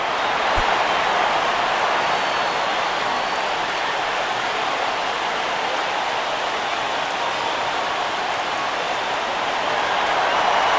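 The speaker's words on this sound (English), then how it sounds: "And listen to this crowd now." Crowd noise at a baseball stadium in the video game MLB 11 The Show, a steady dense roar of cheering that holds at a high level throughout with no pauses.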